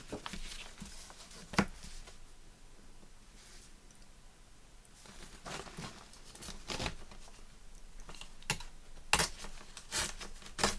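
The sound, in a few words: tearing off a piece of paper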